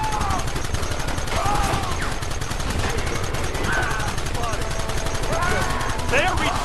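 Gunfire in the video game Red Dead Redemption, with a steady wash of shots and rattling bursts over a dense battle din; voices shout faintly under the noise.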